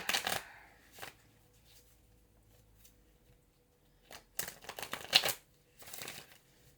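Tarot cards handled and shuffled in several quick papery bursts, with quiet pauses between riffles; close and moderately loud, no talking.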